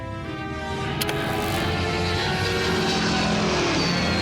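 An airplane falls in a Wile E. Coyote versus Tom Cat cartoon, heard as a sustained, loud engine drone with a sharp clunk near the start and a pitch that begins to sink toward the end.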